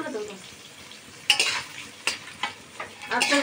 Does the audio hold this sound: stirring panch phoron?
yes